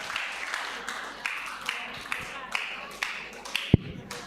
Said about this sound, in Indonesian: mari saya berikan tepuk tangan